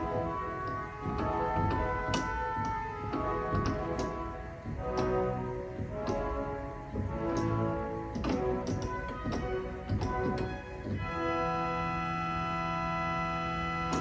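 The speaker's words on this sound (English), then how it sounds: "We have a viol d'orchestra," A pipe organ's viol d'orchestra, an 8-foot string stop, plays sustained chords with shifting notes and light mechanical ticks, ending on a long held chord, at moderate loudness with no talk.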